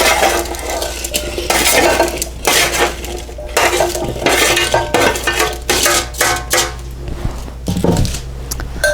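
Chopped celery and thinly sliced green onions stirred in a bowl with a utensil, steady scraping and clinking strokes in a loose rhythm, loud and close with no talk.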